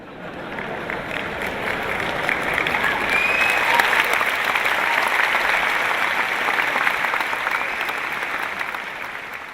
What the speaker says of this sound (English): The sons are clapping